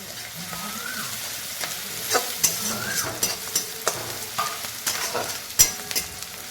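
Chopped onion and garlic fry in hot oil, crackling steadily up close with repeated spatula scrapes and taps against the pan.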